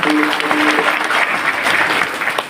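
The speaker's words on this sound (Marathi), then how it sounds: "खरंच जोरात टाळ्या वाजवा" Applause from the audience at a kirtan gathering during a harinam saptah in Ashti fills the space with dense, steady clapping from many hands, loud and close, tapering slightly at the end.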